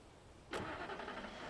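A Jeep engine cranks and catches in the video game Alan Wake Remastered, a sudden start followed by a steady low idle rumble, faint and alone.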